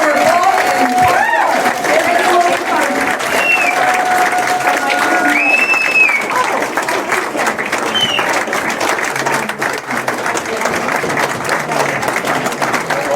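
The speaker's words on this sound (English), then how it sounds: "Let's give a big round of applause for Bob and" A crowd at an Independence Party political speaking event in Medicine Hat, Alberta applauds a candidate with dense, sustained clapping that runs steadily and loud throughout, with occasional voices and cheers mixed in.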